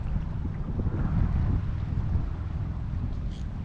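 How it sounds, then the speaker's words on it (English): Outdoor wind buffets the microphone during a fishing outing, a steady low rumbling roar that swells and eases for several seconds without any talk. "This wind is really messing with me here."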